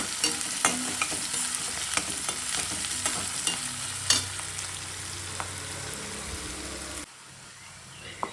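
Onions and green chillies fry in a pan, making a continuous sizzle with frequent sharp scrapes and taps of a spatula stirring. The sizzle cuts off abruptly near the end, leaving a quiet room tone.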